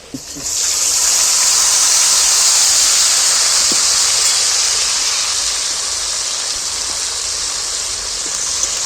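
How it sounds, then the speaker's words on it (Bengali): Tomato and spice paste hits a hot frying pan with potatoes, giving a loud, steady hiss and sizzle that fades only slightly over several seconds. "এবারে পেস্ট করা মশলাটা আমি ওর মধ্যে তুলে দিচ্ছি"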